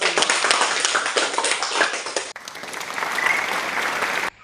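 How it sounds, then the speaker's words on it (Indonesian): A classroom of schoolchildren claps together after a lesson on learning multiplication with rubber seeds, a dense steady patter of hands that drops briefly near the middle, resumes, then stops abruptly. "Tepuk tangan untuk kita semua"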